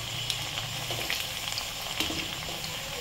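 Kothimbir vadi (coriander fritters) frying in hot oil over high flame, a steady close sizzle and crackle with occasional sharper pops, no voices.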